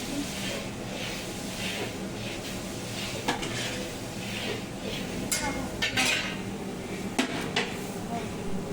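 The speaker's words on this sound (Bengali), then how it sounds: "কড়াইতে দিয়ে দিলাম পেঁয়াজ পেস্ট" Onion paste stirred in a hot wok, with scraping and metallic clinks of a spatula against the pan over a low frying hiss, cooking for a large wedding feast.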